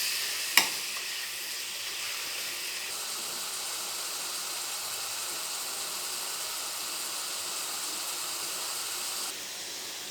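Beetroot and chillies frying for a beetroot biryani give a steady, even sizzle and hiss, preceded by a single sharp knock near the start. Nobody speaks.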